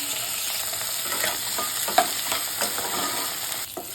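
Onions fry in oil in a pan for an Odia fish curry, giving a dense, even sizzle close by, with faint stirring scrapes and no talking.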